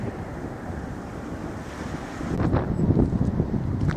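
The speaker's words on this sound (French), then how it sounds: "On ne pourrait pas surfer, mais il y a des vagues." Waves wash and lap on the Saint Lawrence River near Rimouski while wind buffets the microphone, a steady rushing noise that swells louder toward the end.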